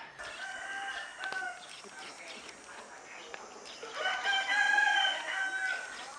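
Fighting roosters crow on a farm, several drawn-out cock-a-doodle-doos at moderate distance, the loudest toward the end, with people talking in the background.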